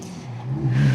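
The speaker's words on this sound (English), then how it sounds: "Oh, there's some noisy cars going past." Noisy cars passing by outside during an indoor mat Pilates session, a steady low engine rumble that swells and grows louder toward the end of the second.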